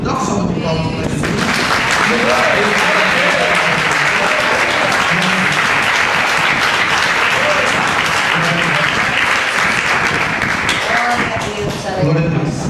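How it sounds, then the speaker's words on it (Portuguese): A church congregation applauds for Jesus, loud, sustained and dense clapping from many hands that swells in after a short pause and runs for several seconds before fading, with voices calling out beneath it. "Dá uma salva de palmas para Jesus."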